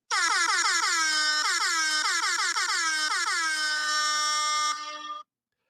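A loud, blaring air horn sounds in rapid repeated bursts, then holds one long continuous blast before cutting off abruptly.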